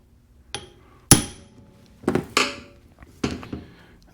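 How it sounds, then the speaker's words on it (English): Several sharp metallic hammer strikes on a truck A/C compressor ring out one after another at uneven intervals, close and clear against a quiet background. "Now I'm going to hit it with the hammer."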